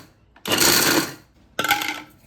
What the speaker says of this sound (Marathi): तर हे पहा आपण सगळे ड्रायफ्रुट्स वाटून घेतलेत